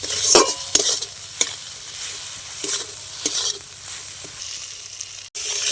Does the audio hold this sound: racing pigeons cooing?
no